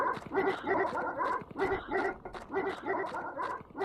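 Several dogs in the video game Red Lake bark and yelp continuously in a rapid, overlapping rhythm, loud and near, with no voices on top.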